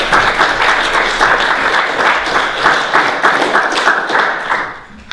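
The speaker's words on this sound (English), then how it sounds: "Why don't we have a round of applause for both speakers?" An audience at an atheism versus Christianity debate gives a round of applause for both speakers, with loud, sustained clapping from many people throughout.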